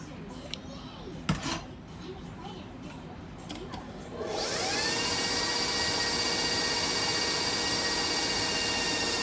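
A new KitchenAid stand mixer starts up partway through after some light clatter, then runs as a loud, steady whirring hum while mixing pumpkin cookie dough.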